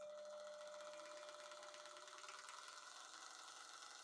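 A mini belt sander runs quietly at steady speed, giving a soft, even mechanical hum and whir with a faint rhythmic flutter, constant and alone, no talking.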